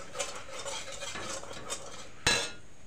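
Turmeric and chili spices being stirred in a pan for an egg curry, soft repeated scraping and light metallic clinks of a spoon against the pan, close and steady, ending in one sharper clatter.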